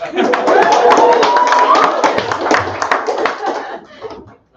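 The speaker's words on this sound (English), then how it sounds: "can we get an encouraging round of applause?" Encouraging applause from an audience at a live poetry event in an underground venue, a burst of fast clapping with a few chuckles, fading out toward the end.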